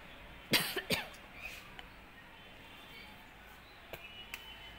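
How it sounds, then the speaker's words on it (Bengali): A person coughs after a mosquito flies into their mouth outdoors: two sharp, close coughs, then softer throat sounds and a few faint later coughs against a quiet background. "মনে হচ্ছে মুখের মধ্যে মশা ঢুকে গেছে, কাশি উঠেছে।"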